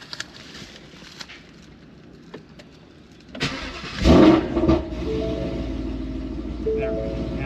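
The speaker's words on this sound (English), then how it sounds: "Turn the car off and turn it back on." A car restarting in a performance shop after a long tube headers install, with a starter crank followed by the engine catching and settling into a steady idle, loud and close, with voices nearby.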